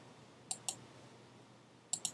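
Computer mouse clicks, two quick pairs of crisp, close clicks separated by a pause, over faint room noise.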